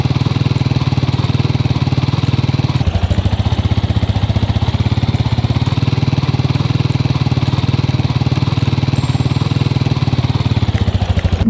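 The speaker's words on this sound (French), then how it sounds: "Le prochain véhicule c'est les dirt bike." A dirt bike engine in Minecraft drones loudly and continuously with a fast, buzzing mechanical pulse, holding a steady idle-like rumble throughout.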